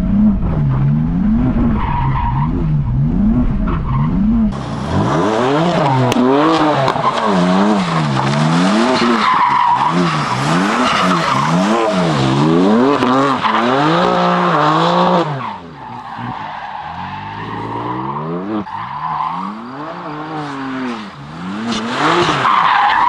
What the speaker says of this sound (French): moi je vais faire un petit tour avec la M4 sur l'anneau.